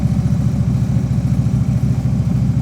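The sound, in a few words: motorcycle engine with throttle brought up to preload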